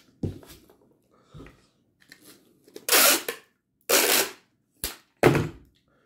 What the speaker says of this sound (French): ce bruit-là. Le bruit du tape.